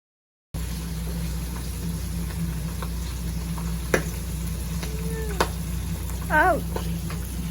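Food frying in a pan, a steady close sizzle running throughout, broken by a few sharp clicks and a brief squeaky warble near the end.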